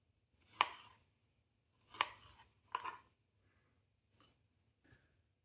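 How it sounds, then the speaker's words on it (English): A knife cuts through strawberries for a German strawberry cream cake, three crisp slicing strokes on a board, then two fainter taps, in a quiet room. "we're going to cut it in multiple slices"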